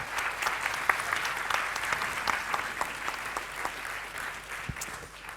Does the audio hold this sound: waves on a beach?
no